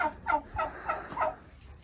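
A flock of farm turkeys gobbles in a rapid series of about five warbling bursts, close and moderately loud, with no talking over them.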